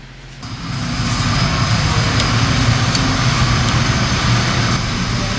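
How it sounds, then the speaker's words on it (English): Pump at a wastewater pump station, driven by a 200 horsepower motor, running as a loud, steady mechanical roar and hum that rises within the first second and then holds evenly, heard close with no speech. "this is the pump that's driven by that 200 horsepower motor"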